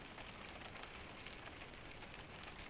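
Soft, steady rainfall patters on surfaces in a dark room at night, an even, quiet wash of drops without voices.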